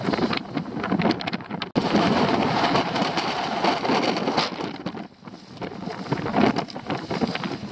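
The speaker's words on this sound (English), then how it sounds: "it's going to be lots of wind" Strong coastal wind during a storm roars steadily and buffets the microphone, with gusty surges and a brief dropout partway through.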